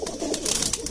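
A kashni pigeon, a high-flying Indian breed, gives a soft low cooing murmur close by, with a few brief brighter rustles over it, short and continuous.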